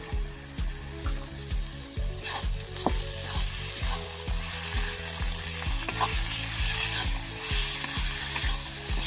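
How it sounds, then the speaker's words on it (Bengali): Tomato frying in spice masala for a country chicken curry, with a constant close sizzle and repeated rhythmic scraping strokes of a spatula against the pan, fairly loud and alone. "এরপর আমি দিয়ে দেবো টমেটো।"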